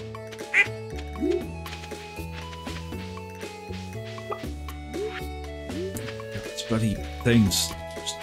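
Farm ducks quack a few times over a steady, melodic background tune in the video game Stardew Valley, with soft footstep-like taps; the calls come through fairly clearly at moderate volume.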